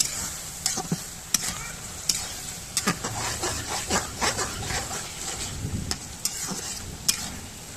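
Chili and turmeric powder sauté for mango pickle as a utensil scrapes and taps the pan in irregular strokes over a soft, faint sizzle, close and fairly quiet, with no talking.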